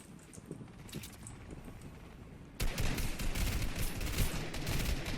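Rapid gunfire erupts in the Fortnite battle game, a quiet windy stretch giving way halfway through to a dense, loud burst of repeated shots and blasts, with no voices.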